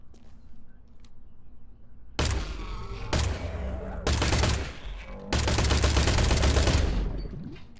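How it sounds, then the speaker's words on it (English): A weapon in Industria lets off four loud, close bursts of heavy automatic fire, each lasting about a second. The final burst runs longest and is separated from the others by brief gaps, after a quiet opening. "This weapon feels like a really nice weapon to put just like lead down range, like a lot of lead."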